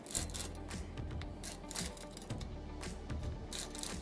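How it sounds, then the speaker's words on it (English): Sandpaper rubs slowly and lightly over a carbon bike frame, giving a soft, steady rasping scrape in repeated strokes, close up with no talking. "I'm letting the sandpaper do the work."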